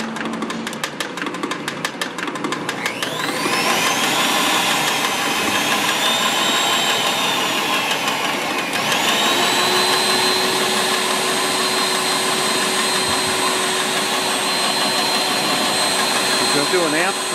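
A FORCE2 high-performance blower motor spinning up after a quiet start into a loud, steady whining roar with a rising pitch, then holding a constant drone, close up.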